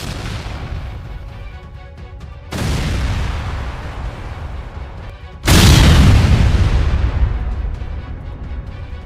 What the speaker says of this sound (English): they lose multiple tanks to a mine barrier prepared by Ukrainian soldiers